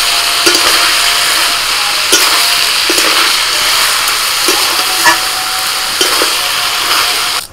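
Ash gourd stir-fries in a ginger and green chilli spice paste, giving a loud, close, continuous sizzle with a hissing wash of steam and periodic clacks of a spatula against the pan every second or so.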